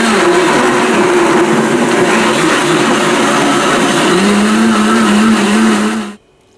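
A blender runs on high, blending blueberries, apricot and plum into a smoothie. The whir is loud and continuous, its pitch shifting slightly near the end before cutting off abruptly.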